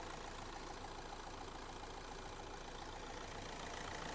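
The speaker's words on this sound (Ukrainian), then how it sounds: "Робота двигуна." A Renault Megane 3 engine idles steadily, a continuous low rumble with a faint rattling texture, close by and unbroken.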